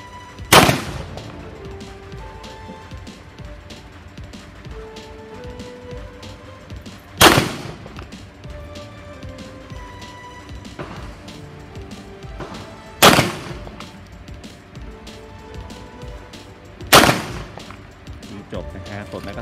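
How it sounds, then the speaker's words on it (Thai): Four sharp, loud 9mm shots from a CZ TS 2 racing pistol at a shooting range, spaced several seconds apart with quiet handling noise between them. "ผู้หญิงพร้อมนะครับบรรจุแมกกาซีน พร้อมแล้วเริ่มยิง"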